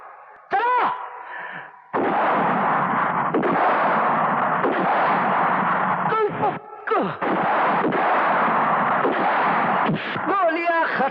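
Rapid bursts of loud gunfire crackle in long sustained volleys, separated by short gaps, with ricochet-like whistles in between.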